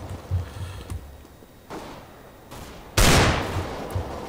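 Gunfire in a shooter video game comes as several separate bursts of shots, closing with a loud, sustained volley, with no talking over it.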